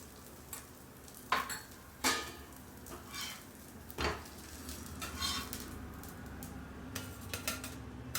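Dosa frying on a hot pan after being flipped, with ghee added on top: a steady low sizzle runs throughout, broken by several sharp clinks and scrapes of a utensil against the pan.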